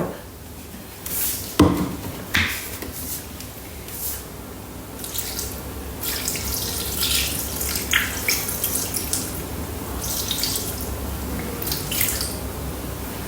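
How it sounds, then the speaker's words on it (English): Water poured into a Thermomix bowl while making a Black Forest cake, a soft trickling and dripping with a few sharp clunks near the start, fairly quiet and with no talking. "Now we're going to add 100 grams of water."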